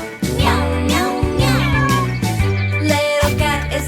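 A cartoon cat meows in a run of bright, repeated calls over a bouncy nursery-rhyme backing with steady bass notes.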